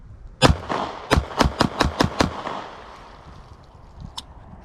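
A Springfield Hellcat pistol fires eight sharp, loud shots in a quick uneven string, followed by a quiet pause and one fainter metallic click or shot near the end, with no talking.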